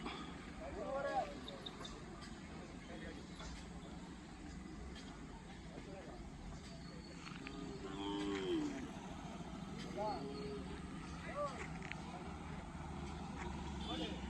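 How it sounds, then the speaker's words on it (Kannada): Calves moo several times at a Hallikar cattle fair in Magadi, Ramanagara, with a constant low rumble of background noise and some people talking faintly. "ಒಳ್ಳೆ ಕರುಗಳು."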